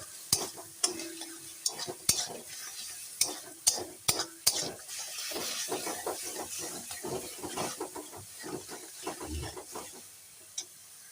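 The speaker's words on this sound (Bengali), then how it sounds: "মিট মশলা দেওয়ার পর ভালো করে এখন সুন্দর করে নেড়ে নিচ্ছি দেখো" A spoon scrapes and stirs meat masala with ground coriander and Kashmiri chilli powder in a pan for biryani. Several sharp metallic knocks come first, then continuous scraping over a low sizzle.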